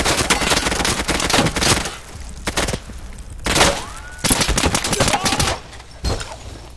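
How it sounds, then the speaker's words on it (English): Shotgun fire in the tactical shooter Insurgency, with loud blasts in irregular bursts and short pauses between them, plus a few ricochet-like whines, close and harsh. "some guy was killing us with shotguns"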